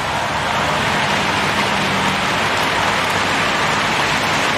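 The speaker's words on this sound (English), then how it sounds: "Goddamn rain. Hasn't stopped pouring since I arrived." Heavy, pouring rain in the video game Heavy Rain hisses as a dense, steady wash of noise, loud and continuous throughout with no speech over it.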